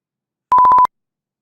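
A single short electronic beep, a steady pure tone lasting about a third of a second, loud and clean against silence.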